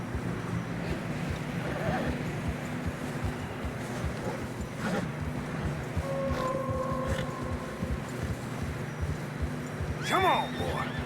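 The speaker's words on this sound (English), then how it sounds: "Horses are getting tired." Horses in the video game Red Dead Redemption 2 plod through fresh snow on a narrow mountain path, a steady trudging under a low ambient bed, with a distinct whinny near the end.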